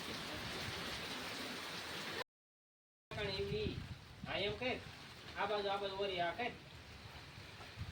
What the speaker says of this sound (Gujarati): ફટોફટ વરસાદ આવી ગયો